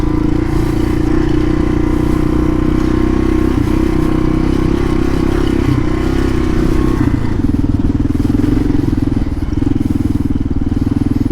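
A 2005 Kawasaki KLR 650 motorcycle idles and coasts along a sandy desert path. Its steady, close engine rumble carries a rattling mechanical clatter, with wind buffeting mixed in and no speech.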